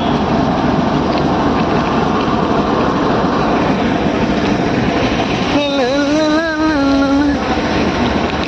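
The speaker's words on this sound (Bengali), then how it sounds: "ট্রেন তো" A train rolling past near a riverbank, a loud continuous rumbling roar with a brief tonal horn-like sound partway through.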